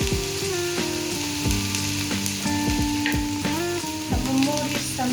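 Vegetables fry in a hot pan with a continuous close sizzle, while a utensil stirs and scrapes in repeated clinks and knocks throughout. No one speaks.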